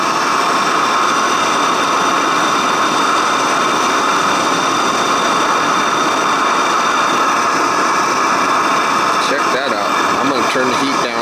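A Camp Chef Stryker 150 camping stove roars steadily as water comes to a boil, a loud continuous burner rush that holds throughout, with speech over it near the end.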